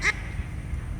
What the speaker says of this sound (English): You start the test with your duck call.